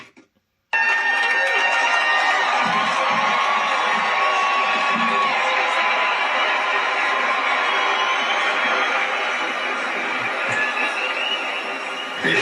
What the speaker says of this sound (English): did that crowd cheer louder when he fell?